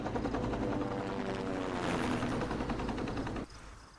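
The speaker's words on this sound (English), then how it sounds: "A helicopter just flew by." In the Resident Evil Survival Unit video game, a helicopter flies by with a loud, dense rotor throb that holds steady for several seconds and then drops off sharply.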